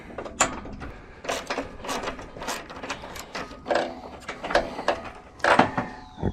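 A wrench ratchets in close, uneven bursts of clicks while loosening 17 mm nuts on a trailer bunk during a jet ski to kayak trailer conversion, with short pauses between turns.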